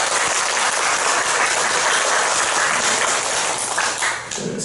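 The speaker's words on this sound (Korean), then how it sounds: "뜨거운 박수 한번 하겠습니다" Warm applause from a church congregation at a Sunday worship service, a dense, loud wash of clapping that holds steady and thins out at the very end, with no speech over it.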